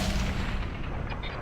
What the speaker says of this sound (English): Distant explosion.